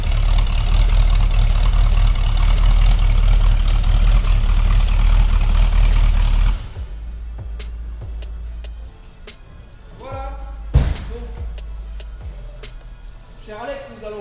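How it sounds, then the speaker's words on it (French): A Ford Mustang GT convertible's V8 with a discreet exhaust line rumbles loudly and steadily close by, then drops to a softer idle with short revs and clicks in the second half. "Du V8, mais ça reste quand même une ligne d'échappement qui est assez discrète"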